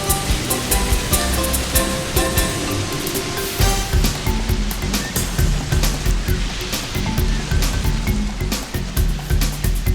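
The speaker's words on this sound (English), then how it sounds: "huge roaring waves of the Indian Ocean make it appear to be wild and tempestuous" Huge waves of the Indian Ocean roar and crash continuously, a dense, steady surge of surf with rolling, pulsing swells and no voices.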